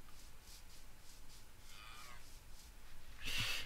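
Cows moo in a video game, faint, drawn-out calls in a quiet outdoor soundscape, ending in a louder burst of noise.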